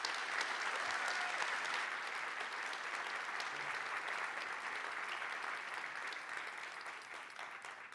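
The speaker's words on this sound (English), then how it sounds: "let's start by giving him a round of applause," Conference audience at Pragma Conf 2025 applauding a speaker, a dense, steady wash of many hands clapping throughout, easing slightly toward the end.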